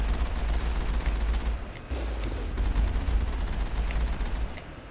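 Gunfire rattles in the Mass Effect video game, a dense spray of overlapping shots and booms with a heavy low rumble, near and fairly loud, briefly dropping off before resuming and fading slightly at the end.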